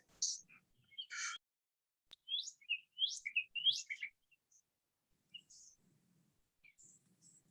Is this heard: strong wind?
no